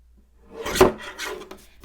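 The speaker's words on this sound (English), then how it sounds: "let's just cut it down to 3 3/4" A single short cut through a leftover strip of paper for a handmade holiday card, a close dry slicing swish lasting under a second, followed by faint softer rustles in a quiet room.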